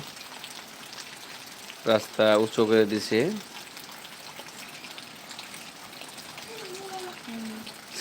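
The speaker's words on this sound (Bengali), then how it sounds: "আমাদের এখান দিয়ে সারা দিন খালি বৃষ্টি আর বৃষ্টি" Rain falls with a steady, even hiss throughout, while a person speaks briefly near the middle and a faint voice is heard toward the end.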